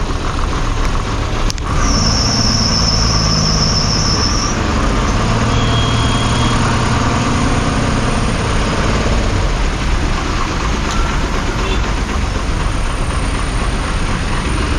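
A steady, loud MSRTC bus engine rumble and road noise in traffic continue throughout, with a brief high whine and a sharp knock near the start, no talking.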